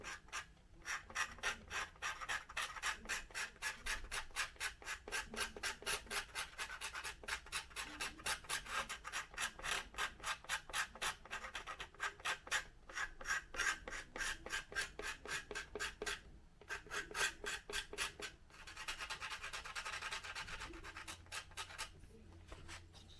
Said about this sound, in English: I just scraped a little bit off this side with my the edge of the X-Acto knife.